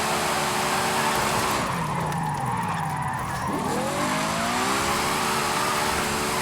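Ferrari 488 Challenge 2017 racing car in Forza Horizon 5, engine droning loud and close as it eases off, then revs climbing back up with tire skid noise during a drift.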